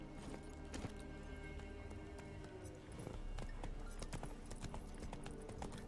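Horse hooves clip-clopping in The Witcher 3: Wild Hunt video game, a run of hoof knocks over a low rumbling game background, quiet overall and getting busier in the second half.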